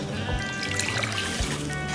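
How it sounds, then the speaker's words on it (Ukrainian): Water and oil being stirred together in a bowl for dough, a dense and steady sloshing, liquid churn that runs close and fairly loud for the whole stretch. "Воду і олію вимішати докупи."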